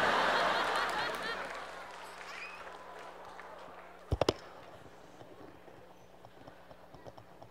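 An audience at a live comedy and music show claps loudly at first, the applause fading gradually over several seconds, with a couple of sharp knocks partway through.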